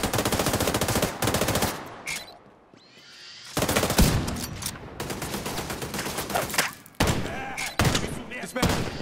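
Rapid automatic gunfire in Tom Clancy's The Division 2 rattles in long, loud bursts, broken by a short lull before fire resumes in dense volleys with scattered single shots.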